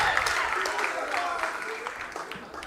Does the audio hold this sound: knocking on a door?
no